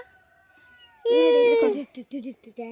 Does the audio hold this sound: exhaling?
no